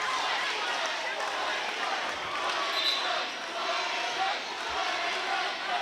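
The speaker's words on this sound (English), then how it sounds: "Both cheering sections trading barbs here." Steady crowd noise fills a high school boys basketball gym as rival cheering sections at a St. Paul's School vs Mandeville High game trade barbs, with a continuous chattering roar and occasional ball bounces, under commentary.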